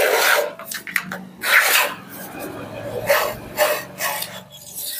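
A plane blade is rubbed back and forth on a diamond sharpening stone, giving repeated rasping strokes, loud and close, with a few faint voice sounds between them.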